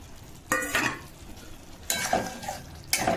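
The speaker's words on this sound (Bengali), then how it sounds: "আমার কষে গেছে, আর ভাজা আলুগুলো দিয়ে আবার কষবো।" A spatula scrapes and stirs spiced potatoes in a sizzling pan in three distinct bursts, with a soft frying hiss continuing between the strokes, heard close and without talk.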